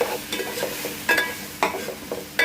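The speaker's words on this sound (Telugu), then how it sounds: "బిర్యానీ మసాలా వేసుకోవాలి. వేసుకొని బాగా మిక్స్ చేయాలి." Biryani masala and spices being stirred together in a frying pan, with a soft steady sizzle broken by several sharp scraping strokes of a spoon against the pan.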